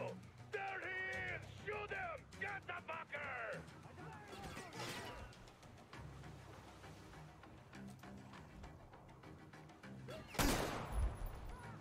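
Bursts of gunfire in the video game Metro Exodus, a few sharp cracks standing out amid a busy mix of voices, music and clatter, with a loud blast near the end.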